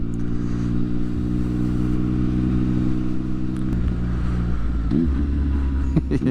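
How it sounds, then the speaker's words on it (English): A 2016 Triumph Speed Triple R motorcycle engine runs steadily up close, then gives a few sharp throttle blips on downshifts near the end, the revs jumping and falling quickly. "Blipping your own downshift sounds amazing as well."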